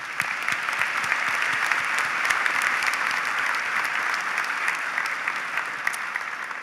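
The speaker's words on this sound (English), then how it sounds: "Graduates, how about a round of applause for your supporters at the University of Maine?" Commencement audience at the University of Maine undergraduate afternoon ceremony applauds steadily, a dense, sustained wash of many hands clapping at a fairly loud, even level throughout with no talk.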